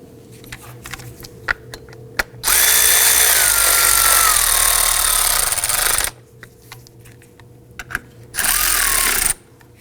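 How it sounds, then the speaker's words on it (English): A power tool snugs down cover bolts on a 2005-2009 Subaru Legacy 2.5L during cooling fan replacement, running in two loud bursts, a longer whirring drive of several seconds then a shorter one, with light clicks and handling between. "And let's go ahead and get those snugged down."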